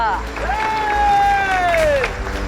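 A crowd claps together in a lively burst at a gathering in the fantasy TV series Baalveer Returns. The clapping is steady and fairly loud, with a raised voice calling out over it.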